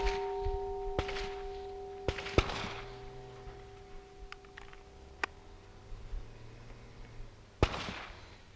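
Several sharp, loud reports from a pistol fired from a close retention position ring out at uneven intervals on a practice range, each followed by a short ringing tail, with a faint steady hum underneath and no talk.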